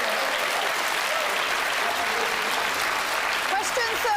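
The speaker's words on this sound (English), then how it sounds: "Round of applause." A studio audience at a televised quiz show applauds a contestant, with sustained, even clapping from a large crowd at moderate loudness and a few faint voices or whoops surfacing near the end.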